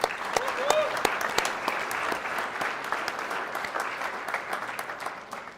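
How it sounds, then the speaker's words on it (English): A live cultural event audience applauds the premier sponsor, many hands clapping in a brisk, sustained round with distinct individual claps audible, tapering gradually. "Please give Chris a round of applause."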